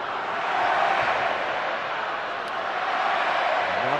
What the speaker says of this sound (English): And now the crowd's starting to get back into this game.